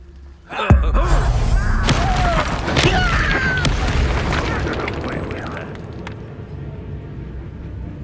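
A Confringo fire spell explodes in Hogwarts Legacy: a sudden loud blast with a deep boom, followed by several seconds of rumbling, crackling debris and fading combat effects, with a brief voice in the background.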